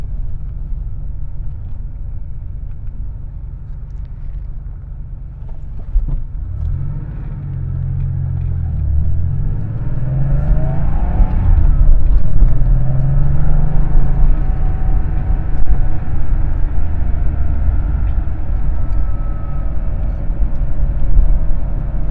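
A classic Porsche 911 drives along with a steady, close engine rumble that builds and holds loud through the run, with low mechanical drone and passing road noise and no talking.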